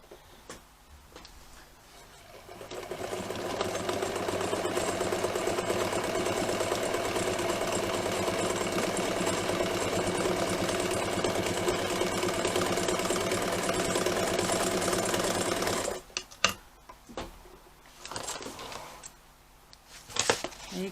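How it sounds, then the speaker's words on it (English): Sewing machine running steadily while top stitching the top edge of a classic tote bag, a continuous mid-paced whir lasting about thirteen seconds, then stopping, followed by brief handling noises. "turn it over, and we'll top stitch on the top"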